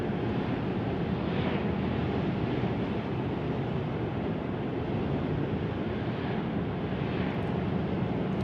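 Steady broadband engine and road roar from a 2021 Mercedes E400 with an inline six-cylinder twin-turbo diesel accelerating on the road, heard from inside the cabin as a continuous, even wash of sound with no speech.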